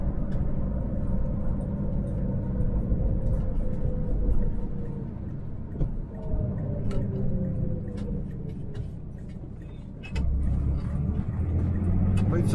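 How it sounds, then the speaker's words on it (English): A Chevrolet Corvair Monza engine drones steadily from inside the car while driving, a low rumbling hum with faint ticking, and the pitch shifts slightly near the end. "It's a very torquey engine."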